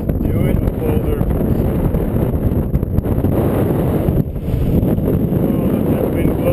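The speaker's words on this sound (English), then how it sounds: "Oh, let that wind blow and blow me over." Loud, constant wind roaring and buffeting against the microphone on the summit of Mount Adams, a dense low rumble with faint voice fragments buried beneath it.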